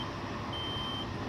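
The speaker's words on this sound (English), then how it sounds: "What does the beeping mean?" A steady electronic alert beeps inside a Caltrain MP36 locomotive cab in Train Simulator on the SF Peninsula Corridor, a thin high tone held over a constant low cab rumble.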